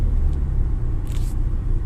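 A truck engine at a car show rumbles steadily and loudly, a deep, continuous low drone close by, with a brief brighter hiss partway through.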